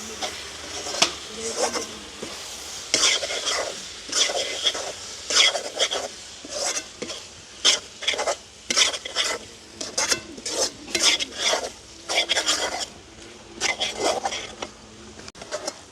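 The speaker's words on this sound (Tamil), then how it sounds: "சோஸ் சேர்க்க போகிறோம் தக்காளி பழ சோஸ் தான் சேர்க்க போகிறோம் அப்படியே நல்ல வடிவாக பிரட்டி விடுவோம்" Food being stirred and tossed in a pan after tomato sauce goes in, with repeated scraping and rasping strokes in an irregular rhythm over a light sizzle, close and fairly loud.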